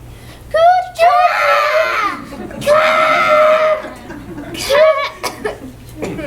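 High school students shriek and warble in high, bird-like whoops and chirps, several voices imitating bird calls in bursts, with giggling between them, during a stage production of Aristophanes' The Birds.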